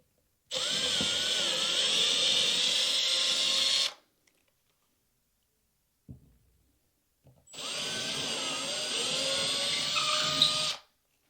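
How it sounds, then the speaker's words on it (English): Two long bursts of a power drill whining steadily as it bores an anchor hole into a wall, each several seconds, separated by a pause with a faint knock; loud and close. "now I'm gonna go ahead and drill it with the bit that I picked for the anchor"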